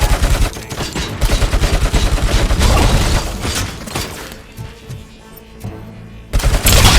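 Gunfire in Robocop Rogue City, with dense bursts of automatic shots and heavy impacts, loud and close, easing into mechanical clatter before another burst.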